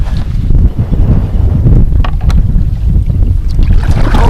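Steady wind buffets a microphone on a kayak during freshwater bass fishing, a loud continuous low rumble with gusty surges and faint water sounds, no talking.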